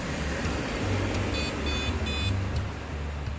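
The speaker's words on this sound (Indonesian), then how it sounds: "Oh, dia langsung ada bunyi beep." A PC motherboard that will not boot, with only the fan spinning, gives three short electronic beeps at power-on, clear and evenly spaced above a steady fan hum, with no talking.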